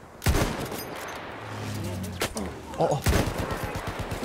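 Martini rifle shots in an online video game, a few sharp loud reports spaced apart amid game noise, with a brief voice exclamation over them.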